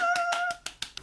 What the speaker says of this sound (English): Round of applause for Kayla.